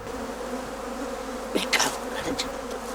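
Honeybees kept in traditional cylindrical cane hives hum steadily throughout, with a few brief louder buzzes passing close by against the constant background drone.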